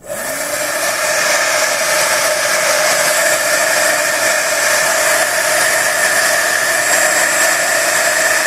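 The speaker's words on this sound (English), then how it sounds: "let's use the heat gun and see what happens" A heat gun blows steadily over embossing powder on an Altenew dahlia stencil project, a loud, close, unbroken whooshing hum with a faint high whine throughout and no talk.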